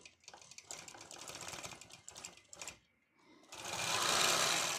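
A sewing machine quilting a quilt top stitches in rapid bursts of mechanical chatter with short pauses, followed by a louder sustained run, close to the microphone and with no talk.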